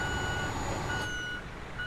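Steady, evenly spaced reversing beeps sound from a truck in Euro Truck Simulator 2, ringing clearly over a low engine rumble in the game.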